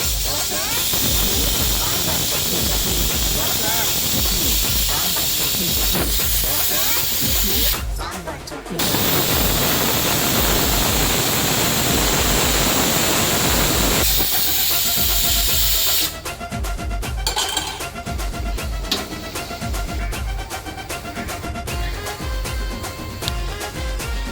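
A pressure cooker on a gas stove, cooking sambar, gives a loud sustained hissing whistle of escaping steam that briefly cuts out, surges back, then turns to a rougher sputtering release, close and continuous throughout.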